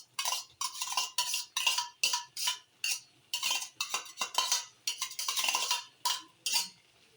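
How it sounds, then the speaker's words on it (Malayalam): Crushed ginger and garlic stirred in a pan, a spoon scraping and clinking against the metal in steady repeated strokes, close and clear with no talk. "ഇളക്കി കൊടുക്കാം."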